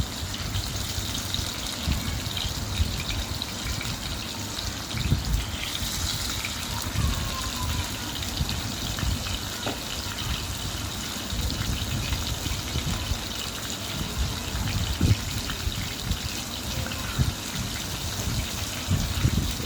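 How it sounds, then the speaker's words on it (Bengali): Pieces of poa fish marinated in turmeric, chili and salt frying in oil, a loud continuous sizzle and bubbling roar with scattered pops throughout, no talking over it. "মাছটা একটু ভালো করে ভেজে নিব। একটু একটু করে মাছগুলো দিয়ে দিচ্ছি।"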